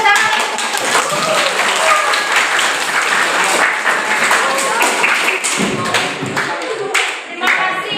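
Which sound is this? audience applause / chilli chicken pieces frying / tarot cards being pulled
audience applause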